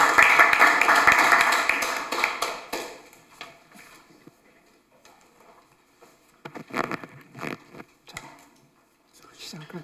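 An audience at a political seminar applauds to welcome a speaker, loud at first and fading over a few seconds into quieter scattered claps and room noise, with more isolated claps near the end.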